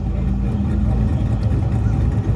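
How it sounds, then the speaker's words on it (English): A turbocharged resto-mod El Camino idles with a steady, loud, deep rumble, heard close without pause and without talk. "turbocharged Resto Mod El Camino, which is sounding fierce right now, just idling"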